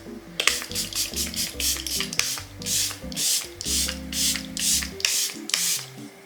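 A run of short, breathy spray bursts repeats in quick succession with brief pauses between them, close up, over a low hum and some faint background tones.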